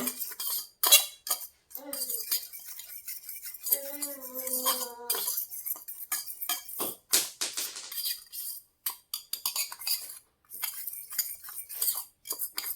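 A spoon scrapes and clinks against a bowl while dry flour mixed with salt and turmeric is stirred, irregular close scraping taps through the whole stretch with short pauses.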